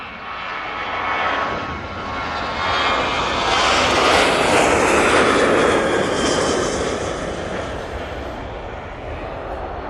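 TUI passenger airplane passing at Manchester Airport, a loud broad engine roar that swells toward the middle and stays strong throughout, with no talk over it.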